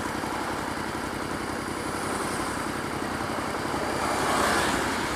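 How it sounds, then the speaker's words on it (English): A motorcycle engine idles steadily in roadway traffic, a continuous close rumble with surrounding traffic noise and no speech. "Still idling away. I may as well have switched my bike off,"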